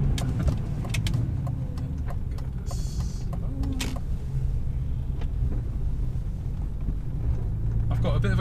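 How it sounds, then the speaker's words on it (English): A BMW M3 with a clunky differential turning around at low speed: a steady, close engine rumble with a few sharp knocks and clunks scattered through the first few seconds. "I've got a bit of a clunky diff."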